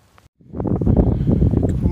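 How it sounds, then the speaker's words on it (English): Strong wind buffets the microphone at a Shenandoah parking lot viewpoint after a brief quiet moment, a loud rumbling roar that persists to the end. "It is windy."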